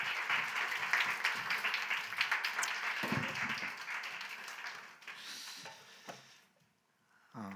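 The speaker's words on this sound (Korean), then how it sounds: "우리 박수로 우리 맞이해 주시면 감사하겠습니다" A church congregation at a Korean Sunday service claps to welcome a visiting pastor, a dense round of applause that gradually thins and fades out to near silence.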